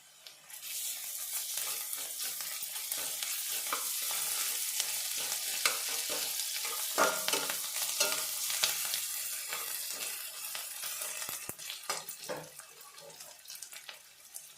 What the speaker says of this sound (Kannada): ಈರುಳ್ಳಿ ಅರ್ಧ ಫ್ರೈ ಆಗಿದೆ ಈಗ ಶುಂಠಿ ಬೆಳ್ಳುಳ್ಳಿ ಪೇಸ್ಟ್ನ ಇದ್ದೀನಿ